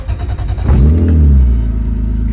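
Drift car engine revs hard once, a sharp loud rise to a deep throaty rumble that settles into a heavy idle, close by.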